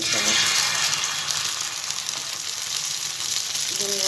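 Oil frying in a pan while an egg roll cooks, with a loud, continuous, bright sizzle that crackles steadily throughout, close up and alone.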